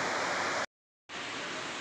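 Water from a river rushes through a sluice gate at Harimura, a loud, steady broadband roar that cuts out briefly mid-way before resuming at full strength.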